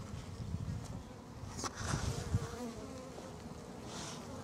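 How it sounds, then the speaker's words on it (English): Honey bees buzz around an abandoned hive in a steady, close, droning hum that rises briefly in intensity midway and carries on without any voices. "bees trying to come out of there."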